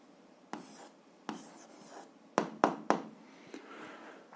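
Pen or pencil writing out the answer to a 7th-grade algebra exercise on graphing functions, heard as a quiet run of scratchy strokes and several sharp taps, close and alone with no talk.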